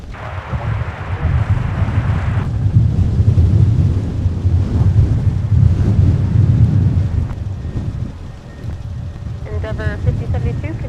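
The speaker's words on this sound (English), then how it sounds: "It's a gigantic gust of wind." Strong wind gusts roar and buffet the microphone at a snowy, windy airport during deicing operations, a loud sustained rush with surging peaks, easing briefly near the end as faint higher tones and a voice come through.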